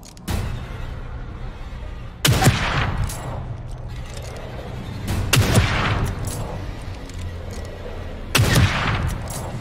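Gunfire in The Evil Within 2, with three sharp, loud shot bursts spaced a few seconds apart over a steady game ambience.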